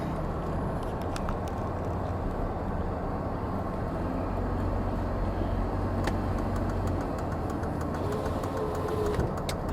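A Mercedes-Benz W124 E320 idles with the air conditioning running, giving a steady low engine hum and fan whoosh heard from inside the cabin at an even level, with a few faint clicks and no talking.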